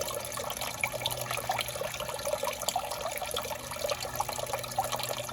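Water trickles steadily from a blocked sill channel of a Sprinter campervan into a 5-litre bowl, a continuous close splashing and dribbling with no talk.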